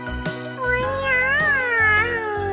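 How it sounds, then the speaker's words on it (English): A cat meows in a video game, a series of drawn-out, wavering meows back to back, loud and close, with no talk over them. "Why are you meowing?"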